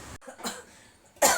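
A woman gives a couple of short, dry coughs close to the microphone, with a quieter cough first and a louder, harsher one at the end.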